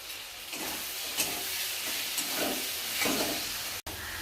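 Tomato sautés with mustard in a hot pan, a steady soft sizzle with occasional stirring scrapes, close and even throughout.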